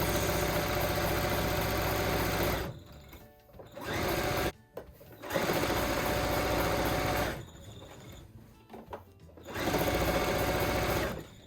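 A sewing machine stitches along the outside edge of a baby quilt in several long, steady bursts of rapid whirring, separated by short pauses, heard close and alone.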